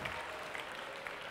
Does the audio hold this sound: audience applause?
yes